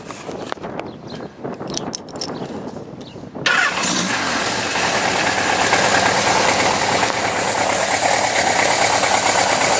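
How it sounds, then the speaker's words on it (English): A 1979 Suzuki GS750L motorcycle engine cranks over with rattling starter noise, then catches and settles into a loud, steady, rough cold idle, close by. "Fire this bitch up."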